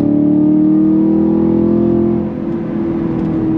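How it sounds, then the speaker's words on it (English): A 2023 Chevrolet Camaro SS convertible muscle car revs loud and close, its V8 exhaust holding a steady droning tone before easing off slightly, without clear separate pops. "Chevy gets it done right with the right amount of pops and bangs out of that exhaust"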